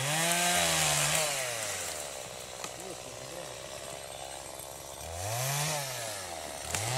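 A chainsaw drones nearby, its pitch rising as it bites into wood and falling as it idles, with a second revving push near the end.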